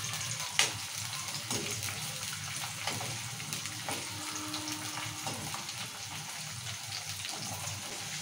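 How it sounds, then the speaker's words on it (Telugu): Ivy gourd pieces fry in hot oil, a steady close crackling sizzle with scattered pops that carries on evenly without talking. "ఇలా ఇట్లా కలుపుకుంటే ఎర్రగా వేయించుకోవాలి దొండకాయలు"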